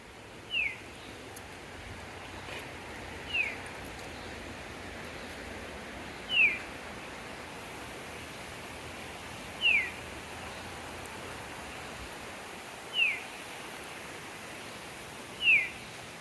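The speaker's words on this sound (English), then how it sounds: "Whatever it is, it's really pretty sounding bird." A single bird at Ravensburg State Park repeats a short, bright, high whistled note every few seconds, clear against a quiet outdoor background with faint ambient hiss.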